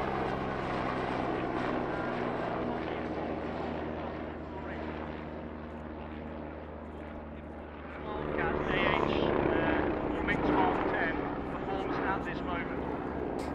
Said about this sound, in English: the Oster AOP Mark IX demonstrates its excellent turn radius